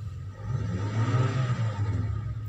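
A car engine with its catalytic converter removed and replaced by straight pipe revs up and holds a steady mid-range roar for a couple of seconds, loud and close with no talk.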